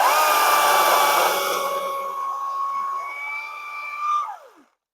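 Skil PWRCORE40 cordless top-handle chainsaw cutting a 3-inch chunk of red oak firewood, a loud steady high whine that holds for several seconds, then winds down sharply as the cut finishes.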